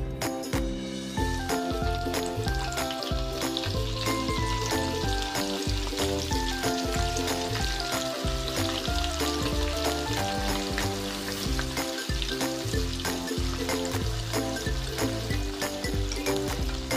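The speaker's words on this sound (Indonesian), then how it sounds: "kemudian ini kita goreng" Cut tofu pieces fry in hot cooking oil, giving a loud, steady, dense sizzle and crackle that continues without break from start to finish.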